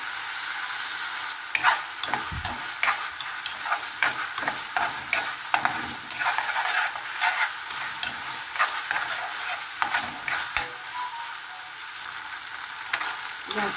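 Green beans and ground pork stir-fry in hot oil, with a steady loud sizzle broken by frequent scraping stirs of a spatula in the pan, close up and without speech.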